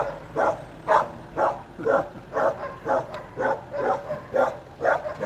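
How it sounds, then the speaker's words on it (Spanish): A dog barks over and over in an even, rhythmic run of about eleven loud woofs spaced roughly half a second apart, close by, beside a rough shack with no voices. "La guerra que da el perro,"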